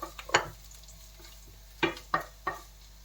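Garlic cooks in a pan alongside carrots for spaghetti sauce, heard as a faint low sizzle under a handful of sharp spatula scrapes and taps against the pan, close and quiet.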